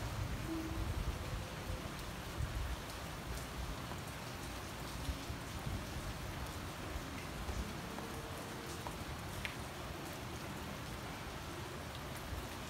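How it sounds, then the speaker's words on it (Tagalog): Steady heavy rain from a tropical depression falls at night in Bulacan, a dense, unbroken hiss of drops drumming on surfaces that stays even and close throughout, with no voices. "Walang tigil na ambon at ulan."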